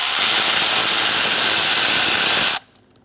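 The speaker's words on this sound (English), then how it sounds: "And now you're going to use a 10mm socket to take out this bolt." A 10mm socket on a power tool spins a bolt out of a 2002-2006 Toyota Camry engine, a loud continuous whirring hiss lasting about two and a half seconds before cutting off sharply.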